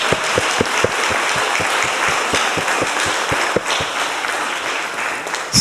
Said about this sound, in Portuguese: Por favor, uma salva de palmas para eles